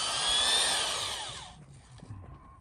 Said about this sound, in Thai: เจาะหลุมฝังเหล็ก โครงเหล็ก โครงเฮาอยู่นะครับผม